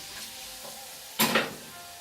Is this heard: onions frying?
yes